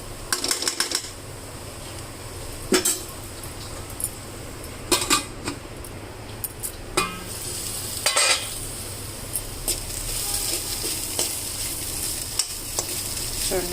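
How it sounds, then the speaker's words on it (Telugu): Green chilies, garlic and peanuts frying in a pan for a Maharashtra-style gourd fry, a low steady sizzle broken by several sharp scraping and stirring clatters of a spoon against the pan. "మనకి పచ్చిమిర్చి, వెల్లుల్లి వేగాలి కదా."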